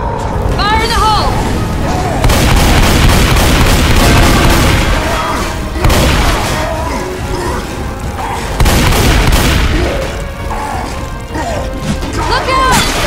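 A thrown explosive detonating in Left 4 Dead 2, with loud, repeated booms and crashing blasts that fill the scene while game character voices shout underneath.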